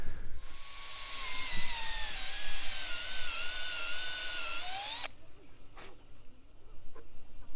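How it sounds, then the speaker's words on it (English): A power drill whines steadily while pre-drilling holes for eye bolts, its pitch sagging under load and then rising before it stops abruptly, followed by a few faint knocks in a quiet outdoor setting. "So I just pre-drilled these and stuck eye bolts in."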